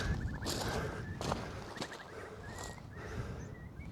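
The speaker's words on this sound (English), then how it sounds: "You can hear birds." Birds call repeatedly in short chattering bursts near Hurst Castle on the Keyhaven Marshes, heard over steady wind and outdoor rumble.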